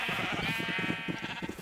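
A flock of sheep being herded in a video game gives a single close, wavering bleat that runs the whole moment, loud and alone.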